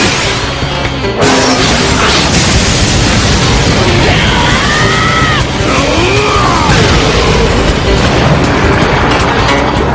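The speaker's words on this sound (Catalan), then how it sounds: "Esclat de foc!" Loud, dense blasts and crashing bursts of a fire-blast attack in the anime Blue Dragon fill the scene, with whooshing sweeps cutting through the roar.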